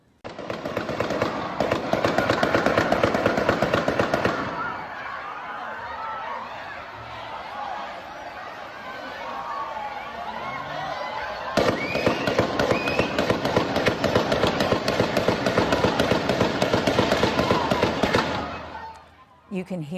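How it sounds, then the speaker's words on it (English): Rapid bursts of gunfire ring out during a mass shooting at a Highland Park parade, a dense volley lasting several seconds, then a pause with crowd noise and shouts before a second long barrage of shots resumes. "You can hear just how many shots were fired in yesterday's deadly mass shooting."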